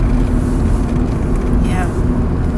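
A car is being driven past a house, heard from inside as a steady, close low road rumble with wind noise that holds evenly for the whole stretch.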